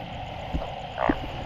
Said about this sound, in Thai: พี่น้องฟังเสียงอึ้งน้ำกันครับ